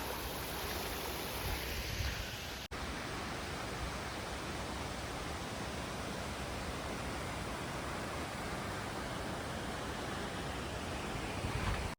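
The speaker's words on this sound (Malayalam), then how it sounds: "ചെറിയൊരു മലയിൽ നിന്ന് ഇങ്ങനെ ഉറവ് പൊട്ടി വരുന്ന വെള്ളമാണ്" Spring water flows down a small hill on the Kalavantin Durg trek in Maharashtra, a dense, steady rushing wash that sounds close and loud throughout, with a brief break near the start.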